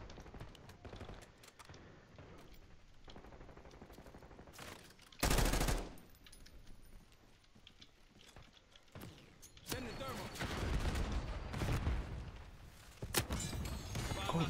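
Gunfire in the Black Ops 6 beta, a shooter video game: scattered mechanical shots and clatter, then a loud close burst around the middle and dense sustained automatic fire toward the end.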